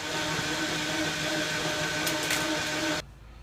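A lathe takes a pass to turn down welds on an electric motor shaft, a steady close mechanical whir with a faint cutting tone that stops abruptly after about three seconds.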